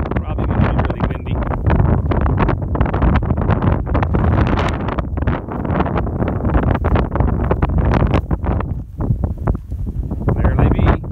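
Strong wind buffets the microphone while riding out among heifers, a loud, steady roaring rumble with gusty surges that never lets up.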